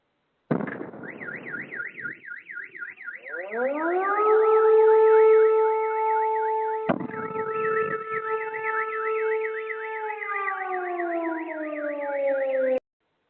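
Alarm sirens wail during missile strikes in Kursk, beginning with a rapid warbling tone that rises into a loud steady wail. After a sharp bang partway through, the siren resumes and keeps sounding continuously, with no voices present.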